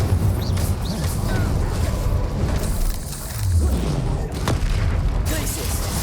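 Incendio fire spell cast in the video game Hogwarts Legacy during combat, loud booming blasts and crashing impacts layered over a constant roar of battle noise, with a heavier rumbling burst partway through.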